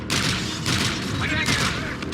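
A grenade explodes in the Call of Duty Infinite Warfare campaign amid a loud, sustained burst of gunfire and booming blasts, with shouted combat voices mixed into the dense, continuous racket.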